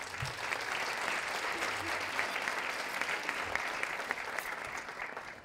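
A crowd at a businesswomen's breakfast gives a sustained round of applause, a steady, even roar of many clapping hands from a room full of attendees, with faint voices underneath.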